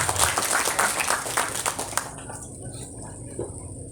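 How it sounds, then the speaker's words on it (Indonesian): Audience applause for someone speaker at a seminar on intellectual property protection, a dense burst of clapping for about two seconds that quickly fades to a quiet room. "Tepuk tangan buat Ibu sekalian."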